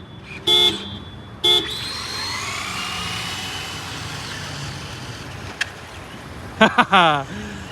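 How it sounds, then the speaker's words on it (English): Three short horn honks, two close together early and a final cluster near the end, over a steady background rumble of engines and crowd. "Give them 3 honks."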